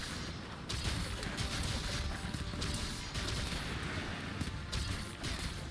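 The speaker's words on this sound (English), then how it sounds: "Time for explosions." Video game explosions during a Monster Hunter hunt, a rapid string of bursts and crashes rattling over a continuous noisy battle bed, fairly faint in the mix.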